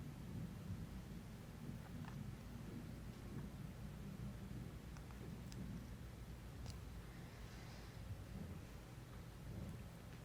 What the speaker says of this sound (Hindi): लखनऊ में बरसात की शुरुआत हो गई है। बिजली की कड़कड़ाहट के साथ हुई बरसात से ठंड में भी बढ़ोतरी देखने को मिल रही है